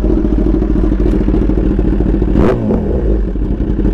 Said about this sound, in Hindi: सबसे मेन बात आपको इसका एग्जॉस्ट सुना देता हूँ, SC प्रोजेक्ट लगा है। और एग्जॉस्ट सुनो